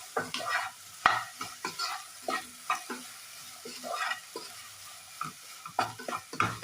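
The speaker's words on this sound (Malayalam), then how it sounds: "ഇളക്കി കൊടുക്കാം." Okra and onions frying in a pan are stirred with a spatula: repeated scraping strokes, close and clear, over a steady sizzle.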